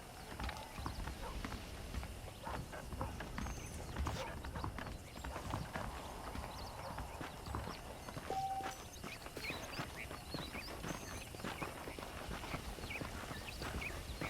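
Horses in the video game Red Dead Redemption walk along with a steady, close clip-clop of hooves, a brief whinny rising midway, while game characters talk over the hoofbeats.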